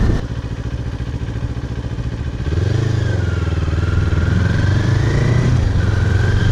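A motorcycle runs with a steady, vibrating engine. The bike idles quietly at first, then the engine grows louder and rumbles on strongly while moving, with some clattering.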